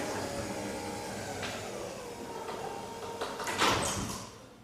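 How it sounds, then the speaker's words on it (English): A garage door driven by an Eachen GD-DC5 opener rolls closed with a steady mechanical rumble and rattle, ending in a louder clunk as it shuts. "and the door comes down"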